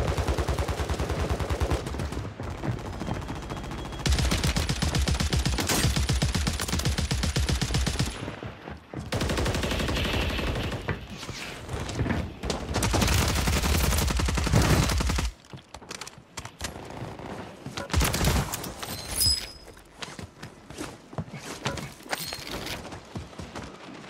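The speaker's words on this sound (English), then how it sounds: "We're firing, chat." Sustained automatic gunfire in Warzone 3 rattles in long dense bursts separated by brief pauses, loud and close, with more scattered shots near the end and no talking.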